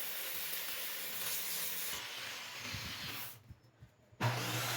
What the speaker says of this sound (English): Using my table saw sled,